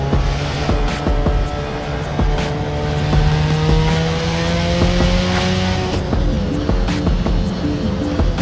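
A Mazda RX7 engine in the Assetto Corsa racing game revs hard and winds up through the gears, rising pitch with shift breaks and a loud, continuous rotary-style whine throughout, no talking.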